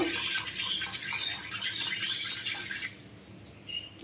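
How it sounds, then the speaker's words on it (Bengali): Eggs with salt are whisked in a big bowl, a fast close run of rhythmic beating taps that stops abruptly near the end, leaving a couple of faint clinks. "এইভাবে ডিমটা ভালোভাবে ফেটিয়ে নিয়েছি"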